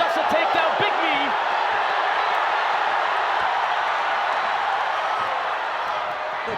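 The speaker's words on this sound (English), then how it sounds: "The crowd really getting behind Belingon" A packed arena crowd roars and cheers steadily during an MMA bout between Masakatsu Ueda and Kevin Belingon, a loud continuous wash of voices and whoops with a commentator talking over it.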